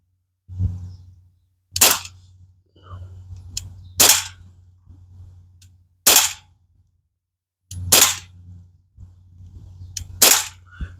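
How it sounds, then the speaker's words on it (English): A Crosman 1911 BB pistol fires a series of sharp, loud cracks, about six shots spaced roughly two seconds apart, over a low background hum. "I think we've got 16 shots or something like that in this BB pistol."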